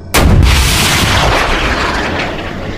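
A rocket ship launches after a countdown: one sudden, loud blast opens into a heavy, sustained roar and rumble that fades slightly over a few seconds, with no voices.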